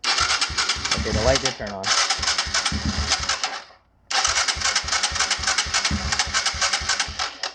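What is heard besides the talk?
Kawasaki KLX140 dirt bike engine cranking, trying to start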